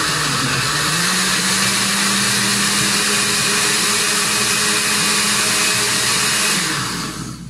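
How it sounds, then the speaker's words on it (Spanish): Kitchen blender grinding ingredients with water for a huevos ahogados sauce, a loud steady whirring motor that runs continuously, shifts pitch slightly, then winds down at the end. "nos vamos a la licuadora."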